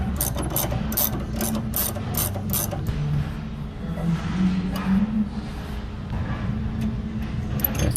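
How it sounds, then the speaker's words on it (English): Close, steady ratcheting clicks from a ratchet wrench undoing nuts on a bowling pinsetter, fast rhythmic pawl ticks running the whole time over low mechanical rumble, with no speech. "Now we need to undo these nuts."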